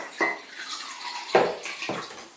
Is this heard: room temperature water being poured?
yes